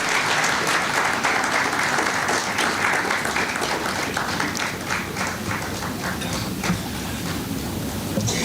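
A large audience at an African Plant Breeders Association event gives a loud, sustained round of applause for high school singers, a dense rain-like roar of clapping that carries on without pause.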